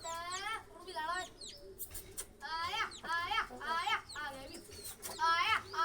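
Domestic pigeons cooing and calling in repeated short bursts, close by, mixed with children's voices in the background.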